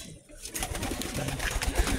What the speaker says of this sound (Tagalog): So ito yung mga kalapati nga natin.